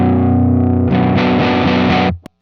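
Electric guitar through a Zander Circuitry distortion pedal with its tone control turned all the way down, a dark, thick distorted chord ringing loud and close, then a second chord, cut off abruptly.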